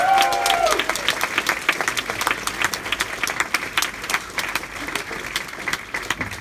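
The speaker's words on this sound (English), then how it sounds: "Give them a huge round of applause, ladies and gentlemen." A live-show audience breaks into sustained applause with scattered cheers, dense clapping throughout, a brief shout near the start and no talk over it.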